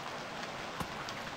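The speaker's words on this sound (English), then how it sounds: "I figure we go ahead and record through the rain here anyways" Rain falling in the survival video game Stranded Deep, a steady dense hiss of drops hitting surfaces with one brief soft tap partway through, even and continuous, with no voices.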